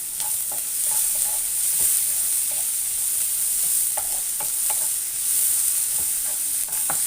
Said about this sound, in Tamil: வதக்கிட்டு தக்காளி போட்டுக்கிறேன்.